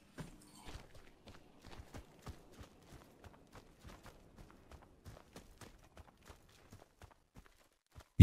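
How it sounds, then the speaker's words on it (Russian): Footsteps stomping in the first-person shooter Warface: a steady, evenly paced run of thudding steps, moderately faint and continuing throughout, with no talk and a sudden loud burst at the very end. "Че ты топаешь как слон?"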